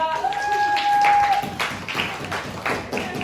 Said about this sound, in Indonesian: tepuk tangan dong buat kelompok 2